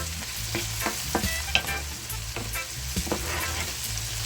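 Peppers fry in a pan with a constant crackling sizzle and low rumble, broken by repeated clicks and scrapes of a spoon stirring them.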